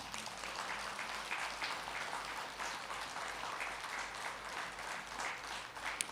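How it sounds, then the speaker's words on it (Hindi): A meditation gathering's audience claps in a steady, continuous wash. The applause is quiet and sounds distant, with no voices over it. "तालियां बजाएंगे आपके लिए."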